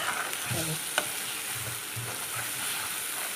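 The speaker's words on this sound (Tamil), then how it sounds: "இப்போ இது கடாயில் போட்டு கடுகு போட்டு கொஞ்சம் தாளிச்சிட்டு ஆயில் விட்டு தாளிச்சிட்டு இதை போட்டுட்டு நம்ம என்ன பண்ண போகிறோம்னா இப்படி கிளறிட போகிறோம்" Ridge gourd tempered with mustard seeds in hot oil in a kadai sizzles steadily while a spoon stirs and scrapes, with a sharp clack near the middle and low scraping pulses throughout.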